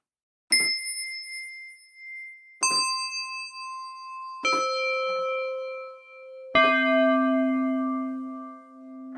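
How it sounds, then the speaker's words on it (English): Four synthesized bell tones strike one after another, each ringing out bright and clear with a long, slowly fading decay in otherwise quiet surroundings. "it's a great bell sound"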